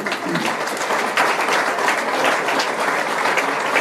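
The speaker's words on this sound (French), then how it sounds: "On les applaudit s'il vous plaît." Audience applause at the inauguration of a business incubator village in Toulouse, a dense, steady wash of many hands clapping together, loud and close, holding evenly for several seconds without talk.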